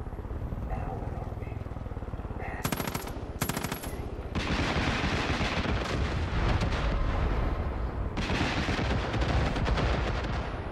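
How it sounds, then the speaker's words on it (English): Heavy gunfire in the video game Far Cry 5: rapid machine-gun bursts rattle in short clusters, then long loud sustained firing roars over an engine-like drone, with voices talking in the mix. "Okay, we can take ground fire"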